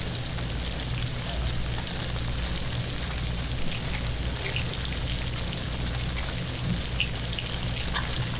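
Fresh Wholey's gourmet salmon sears in a hot pan, giving off a steady, dense sizzle and crackle like light rain, close and continuous throughout without pauses.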